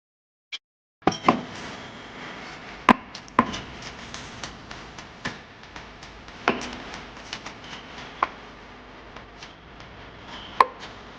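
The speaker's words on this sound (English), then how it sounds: "Chopped ginger" A knife chops ginger on a cutting board in a home kitchen, giving irregular, crisp taps that come one at a time with short pauses, fairly close and fairly quiet, with no talking.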